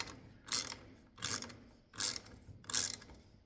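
A ratchet wrench tightens bolts on new vehicle mirrors, four short rattling clicking bursts spaced about evenly apart, close and fairly quiet with no speech.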